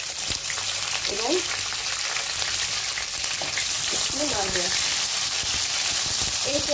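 Half of a batch of cubed onion drops into hot oil for a potato and carrot fry, setting off a loud, dense, steady sizzle close by, with brief faint voice-like sounds in the background.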